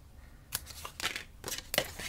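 Scissors snip paper box tabs in four quick, close cuts spaced about half a second apart, crisp and fairly quiet with no voices.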